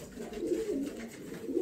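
A pure Malwai black pigeon coos in a low, throaty, rolling call that runs steadily and close-up, with soft swells and no voices over it.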